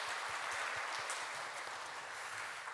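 A church congregation at a Sunday service applauds in a dense, even patter of clapping that holds steady for a few seconds, with no talking over it.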